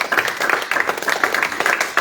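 A church congregation at a teaching meeting breaks into lively applause, many hands clapping fast and loud throughout, with voices mixed in.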